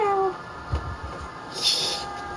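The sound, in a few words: cat meowing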